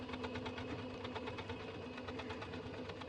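A sewing machine runs a straight stitch with a hem foot, a close, steady, rapid mechanical clatter of the needle with an even motor hum throughout.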